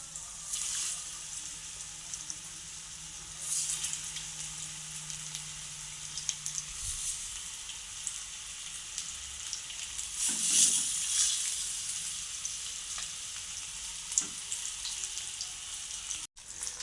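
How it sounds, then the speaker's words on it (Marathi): Fish pieces frying in two spoons of hot oil in a pan, a steady soft sizzle running throughout with a few louder crackles and pops, no talking. "तेल आपलं चांगलं गरम झालं आहे आता आपण एक एक करून असे मासे फ्राय करून घेऊया"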